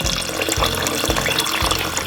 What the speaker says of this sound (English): Might put a little bit more water.